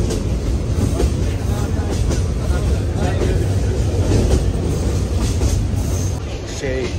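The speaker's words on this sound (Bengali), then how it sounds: "সো আমরা ট্রেনে উঠবো এখন," A passenger train rolls along on its rails from Sylhet toward Cox's Bazar, Bangladesh, heard from inside as a loud, continuous rumble and rattle that holds steady throughout.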